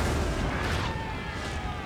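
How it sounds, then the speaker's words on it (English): Cannon artillery fires across a battlefield in Napoleon: Total War, blending into a dense, continuous roar of gunfire and battle noise without distinct separate booms. "I should probably get my cannon to quit firing at my own troops"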